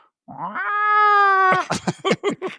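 A cat yowls and hisses in a scene from the 1979 film Alien, giving one long, drawn-out rising wail followed by a quick series of sharp, harsh cries, loud and close.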